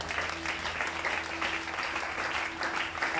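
A church congregation applauds the Lord with dense, sustained clapping that continues evenly from start to finish.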